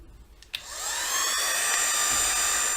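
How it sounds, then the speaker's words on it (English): A heat tool blowing hot air to melt embossing powder on a card-making tag switches on after a soft click and holds a steady, loud whirring whine to the end, with no talk. "I'm going to melt the powder with my heat tool"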